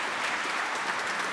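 A church congregation at an inculturation Mass claps steadily, with dense, even applause filling the whole short moment.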